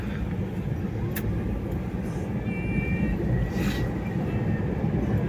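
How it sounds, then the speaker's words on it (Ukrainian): A combine harvester drives out during a soybean harvest of the Kansas variety, its engine a steady, moderately distant rumble that drones evenly throughout with no talk. "Десь виїхав комбайн, їде."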